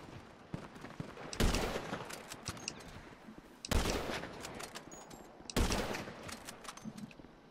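Gunfire in a video game aimed at Snuggle Bear: three heavy, loud bursts of shots spaced a couple of seconds apart, with scattered quieter shots and game noise between them and no voices.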